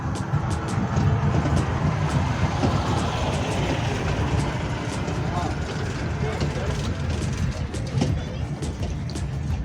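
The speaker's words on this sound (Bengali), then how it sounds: "আমার পেছনে টয় ট্রেন আসছে।" Toy train rumbling past in Kolkata's Eco Park, a steady close mechanical clatter filling the whole stretch with no clear approach or fade, while people speak nearby.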